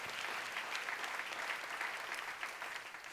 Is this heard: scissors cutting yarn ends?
no